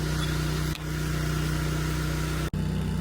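A skid steer engine runs steadily at a constant hum on a farm where fences are being welded, holding an even drone with two brief dropouts.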